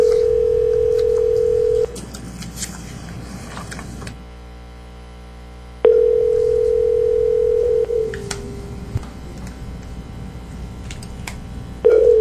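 Telephone dial tone after a call is hung up, a steady loud hum that drops out and returns several times across the stretch, with faint clicks and no speech.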